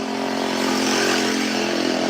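A vehicle exhaust with no muffler roars loudly and steadily at close range, a dense rough engine drone that holds without pause, no voices over it.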